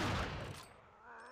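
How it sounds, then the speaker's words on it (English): A brief burst of gunfire rattles out in the Resident Evil 4 video game, fading quickly into a lingering rumble. "No, keep shooting."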